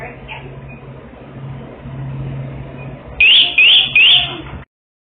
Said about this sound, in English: Wait for up to 15 seconds for the alarm to chirp 3 times.